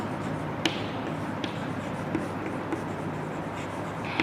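Chalk or marker writes a chemical formula on a classroom board, with faint scratchy strokes and a few sharp taps in a steady, quiet rhythm under room noise.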